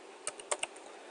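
Quiet typing on a computer keyboard, four or five light clicking keystrokes in quick irregular succession against a faint background hiss.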